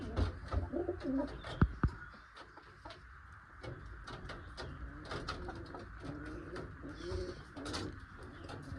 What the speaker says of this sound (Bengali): নতুন জায়গায় পায়রা একটু ঘাবড়ে আছে